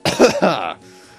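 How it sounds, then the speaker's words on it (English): One short, harsh cough bursts out close by in a couple of quick pulses, then fades into quiet. "I had to cough"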